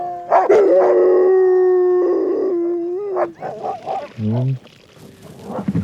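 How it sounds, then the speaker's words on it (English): Several sled dogs howl loudly up close on a morning trail in the Brooks Range, long drawn-out wails overlapping, breaking into shorter yips and whines toward the end. "the silence of morning on the trail is interrupted by the sounds of dogs needing another meal."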